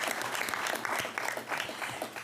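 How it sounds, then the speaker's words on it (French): Steady applause from a seated audience at a municipal council meeting, a dense crackle of many hands clapping for a couple of seconds with no pause. "On les applaudit tout de même."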